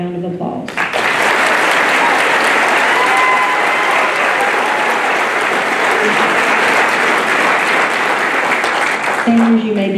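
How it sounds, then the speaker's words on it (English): Sustained, loud applause from a large graduation ceremony crowd honoring graduating seniors, dense clapping that swells in and fades near the end. "Please give these guys a round of applause."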